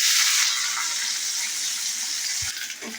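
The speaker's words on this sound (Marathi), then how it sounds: "आता मी ह्याच्यामध्ये कांदा टाकून घेते." Onion dropped into hot oil in a pan for Goan potato patal bhaji, giving a loud, steady close-up sizzle that fades slightly while frying continues, with a small stir or clink near the end.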